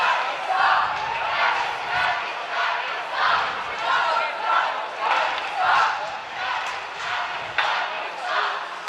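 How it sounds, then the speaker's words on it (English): A loud student section of Oswego Laker fans roars at a men's college ice hockey game against Potsdam, a dense, sustained crowd din that swells in rhythmic pulses like chanting or clapping throughout. "You can hear this Laker faithful crowd. Student section getting loud with the Lakers now up 6 goals."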